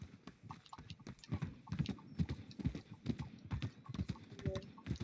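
Horse hooves clip-clop steadily in a video game, with regular close, crisp hoofbeats repeating over several seconds.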